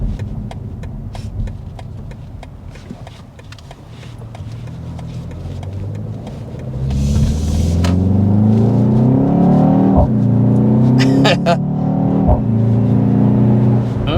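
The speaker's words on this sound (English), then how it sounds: "you can definitely hear the exhaust more. It does the popping that I really like every shift." A 2024 BMW X2 M35i engine builds and revs under acceleration in sport mode, heard from inside, growing louder, with sharp exhaust cracks and pops on every shift.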